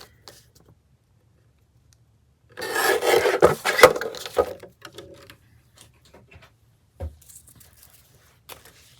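Trimming the bottom edge of a small wooden snowman tag, a burst of close scraping and rasping strokes lasting about two seconds, then quiet with a few faint taps.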